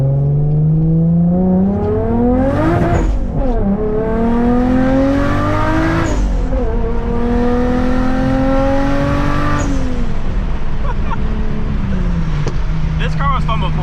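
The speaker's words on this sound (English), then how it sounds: "Dude, this car sounds nasty now." A loud tuned Volkswagen Corrado engine revs repeatedly, pitch climbing through gears and dropping back, with a raspy, aggressive exhaust note close by and voices in the background.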